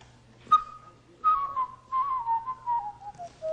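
A man whistles an imitation of a bird call, beginning with a sharp chirp and then a long wavering whistle that slowly falls in pitch, heard close and alone over faint room hum.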